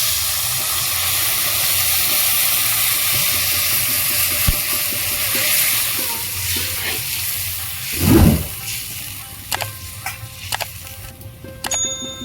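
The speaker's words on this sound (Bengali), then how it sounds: "জল জলটা ফুটছে" Water heats to a boil in a cooking pot, with a steady hiss and bubbling, then a brief louder surge and several metallic clinks and rings near the end.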